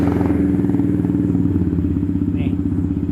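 A custom Yamaha Vixion tracker motorcycle with a fuel-injected engine runs at a steady, loud idle through an aggressive aftermarket exhaust, giving a continuous low, throbbing rumble for the whole stretch.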